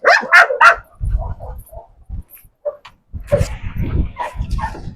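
Several sharp Turkish Kopay hound barks up close at the start, then quieter whimpers and yips with a person talking over them.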